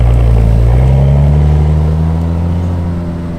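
A Ferrari F40's engine revs loudly up close, a deep, rough, sustained roar whose pitch climbs gradually and then eases off slightly toward the end, with no voices over it.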